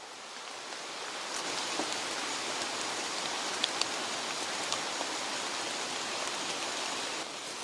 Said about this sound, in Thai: ฝนถล่มมาละ น้ำขุนแน่ๆเลยรอบนี้